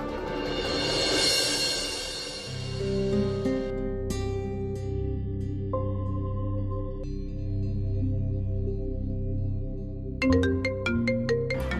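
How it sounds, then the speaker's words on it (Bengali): A phone ringtone plays loudly and close: a sustained melodic electronic tune with steady tones that shift in pitch, rising into brighter repeated notes near the end, with no voices over it. "নিখিল, ফোনটা ধরো, বোধহয় শ্যামা ফোন করেছে।"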